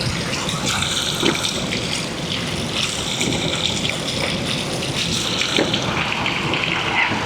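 Cold spring water flows from a mountainside on a trail to a waterfall in Laguna, making a steady, close splashing gush without pause and with no talking.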